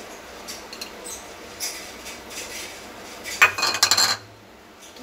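Paneer being mashed with finely chopped onion in a bowl for black chickpea kebabs, heard as scattered light clinks and scrapes of a utensil against the dish, with a louder burst of clattering toward the end.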